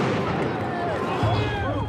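A grenade detonating at a street protest in France, a loud blast that leaves a dense, sustained roar of crowd noise and echoing commotion, with voices shouting through the chaotic din.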